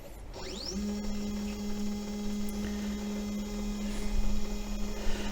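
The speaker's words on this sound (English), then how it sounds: "I'm just homing the machine." A Sainsmart 4040 Pro CNC machine fitted with an offline controller homes its axes. A motor whine starts after a moment and holds a steady pitch over a faint hum, with a few light mechanical ticks.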